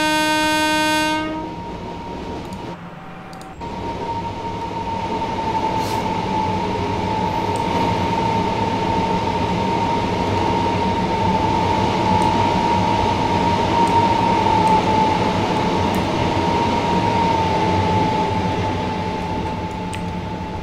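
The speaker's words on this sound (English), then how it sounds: "So I just stood here and yeah, watch the trains fly past." Trains passing by in Train Simulator 2019, opening with a loud horn blast, then a long, steady rumble of rolling wagons and a sustained high tone, close and loud for the whole stretch.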